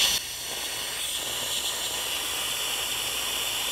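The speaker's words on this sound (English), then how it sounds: "And it's extracting as much brake fluid as it can get." A brake fluid extractor drawing fluid out of the reservoir of an Aston Martin DB9, a valve cracked open to a steady, close, airy hiss of suction that holds evenly after a brief louder start, no talking.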